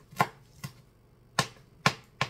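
Five crisp knife chops strike a cutting board at an uneven pace as leaves are chopped for Thai chicken larb, close and clear with quiet pauses between.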